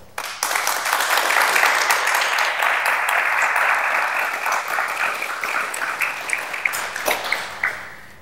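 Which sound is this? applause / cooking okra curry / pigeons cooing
applause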